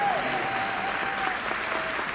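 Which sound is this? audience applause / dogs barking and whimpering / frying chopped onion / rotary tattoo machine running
audience applause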